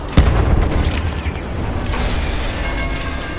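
Gunfire and booming blasts in the Battlefield 1 campaign, a loud dense rumble with a sharp opening report and scattered shots rolling on steadily throughout.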